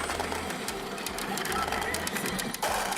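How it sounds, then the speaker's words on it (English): Pachinko parlor din of many machines and cascading ball bearings, a dense continuous metallic clatter and hiss with faint tonal jingles, loud and close throughout. "hundreds of shrieking machines and thousands of ball bearings being blasted in every direction"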